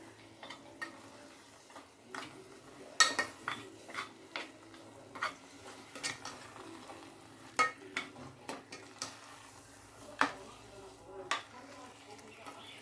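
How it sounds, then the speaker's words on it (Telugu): Mutton fry curry being stirred in a pan, with soft scattered scrapes and clicks of a spoon at irregular intervals over a quiet, faint background. "ఇప్పుడు మళ్ళీ అంతా బాగా కలపాలి"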